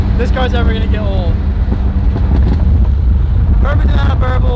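Burbling exhaust crackles from a BMW M4 on the road, a steady engine drone with bursts of popping near the start and again at the end, heard under wind noise.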